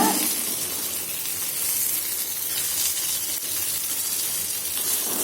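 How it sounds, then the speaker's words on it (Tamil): Oil sizzles on a hot griddle, a steady, dense, bright hiss that runs unbroken from start to finish at an even, fairly loud level, with no voices. "கல் சூடான உடனே கொஞ்சமாக எண்ணெய் விட்டு இந்த ஃபாயில் பேப்பரை திருப்பி போட போகிறோம்"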